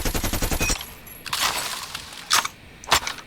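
KRIG 6 assault rifle from Call of Duty firing a tight full-auto burst up close, then a few separate sharp shots or short bursts over a low game background.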